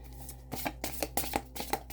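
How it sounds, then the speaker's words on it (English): Angel oracle cards of an awkward size are shuffled by hand, giving a quick run of soft papery riffles and taps close by, faint and with no talking. "These are kind of an awkward size here, so let's just shuffle the best we can."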